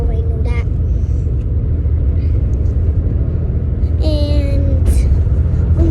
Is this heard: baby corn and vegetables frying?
no